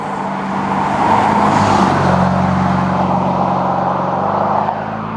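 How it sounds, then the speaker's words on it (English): A Maserati 3200 GT's engine drones steadily while driving, a constant low hum with a swell as it pulls harder midway, loud and close with no talk over it. "the engine sound never really goes away. It is a constant companion"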